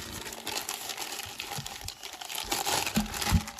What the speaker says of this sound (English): go ahead and put it in a Ziploc baggie